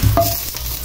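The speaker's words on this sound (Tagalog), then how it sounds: "habang naluluto na yung ating garlic, ilagay na natin yung 1/2 stick of butter" Minced garlic and half a stick of butter sizzle together in a pan over low heat, a short, close, steady frying hiss with a faint stir at the start.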